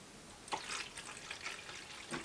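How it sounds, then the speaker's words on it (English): Water poured by hand into the reservoir of an AeroGarden indoor growing unit, producing a few soft splashing, trickling bursts at close range with quiet gaps between them. "We're going to put some water in here."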